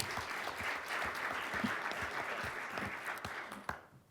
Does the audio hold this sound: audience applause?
yes